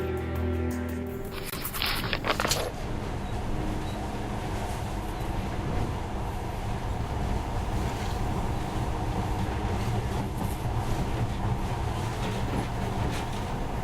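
Monorail train in the video game Metro Last Light runs with a steady, continuous rumbling drone, a brief clank at the start, then an even mechanical hum throughout.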